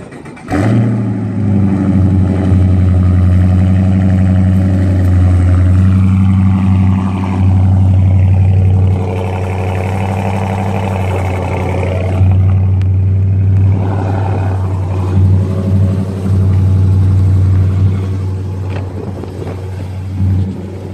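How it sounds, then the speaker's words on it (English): Dodge Charger Daytona engine running and revving, a loud deep rumble that holds steady with several rising and falling revs over about twenty seconds, close to the car. "And the next second you will see the car starting up."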